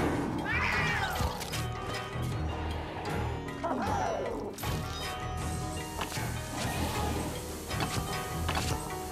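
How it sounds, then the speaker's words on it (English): A cartoonish cat meows several times in Luigi's Mansion 3, rising and falling yowls over busy game music and mechanical ticking, fairly loud and close. "The scary kitty."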